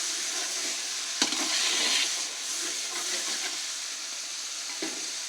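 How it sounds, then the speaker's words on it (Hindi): Chicken frying in a pot for kabuli pulao, a steady bright sizzle and hiss throughout with a couple of brief stirring knocks, close and continuous, no talk. "मज़ीद फ्राई करेंगे"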